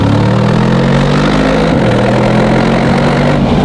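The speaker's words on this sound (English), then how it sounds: "I want to hear the G-Wagon in the sport mode." Mercedes G-Wagon engine running in sport mode, a loud, close, steady low rumble with a slight shift in pitch partway through and no voices over it.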